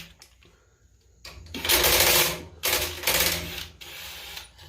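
Close mechanical whirring in two loud bursts of a nut driver working a fastener off a Predator 212 small engine, with a quieter stretch of handling beforehand and a brief softer burst at the end.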